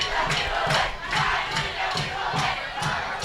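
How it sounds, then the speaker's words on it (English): Homecoming crowd at a high school football game chanting in a steady rhythmic pattern, a loud massed chorus of voices pulsing at regular intervals from the stands. "Bulldog crowd in full homecoming form here. Oh, yeah. Got the chants going."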